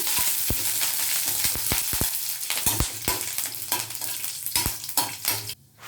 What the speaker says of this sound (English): quarter teaspoon of methi, and curry leaves, a fist of curry leaves. Fry.